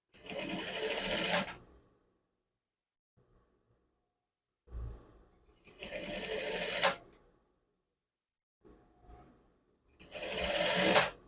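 A sewing machine topstitches a men's dolman sleeve in three close, clear bursts of rapid stitching, each about two seconds long, separated by quiet pauses with faint handling sounds.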